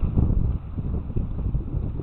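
Steady, heavy wind buffets the microphone with a dense low rumble, mixed with waves sloshing nearby at a lakeside fishing spot; no one speaks.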